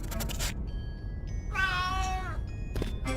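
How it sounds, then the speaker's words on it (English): A cat meowing in the adventure game A Vampyre Story: one clear, drawn-out meow with a falling pitch, set against a steady background of game music and ambience. "Look, it's a cat!"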